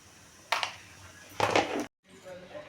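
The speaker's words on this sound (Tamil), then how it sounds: "கடுகு பொரிஞ்சிருச்சு." Mustard seeds splutter in hot oil with fennel seeds, cinnamon and cloves in a pan for a country chicken fry, giving two short, close bursts of crackling and popping over a low kitchen background before an abrupt cut.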